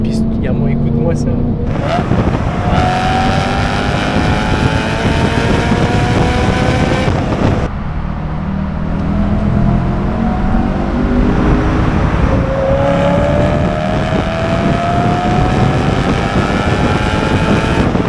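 A BMW M3 engine revs hard and loud, its pitch sweeping up and down in repeated climbs, with a short lull midway before it wails again.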